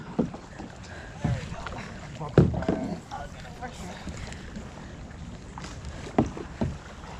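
A small kayak rocking on choppy water near Florida mangroves, with irregular bumps and slaps at the hull over steady wind noise, a few louder knocks standing out.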